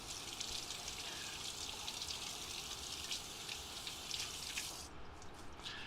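Running water from a faucet splashes over a portobello mushroom being rinsed, a soft, steady hiss and patter close by that cuts off near the end.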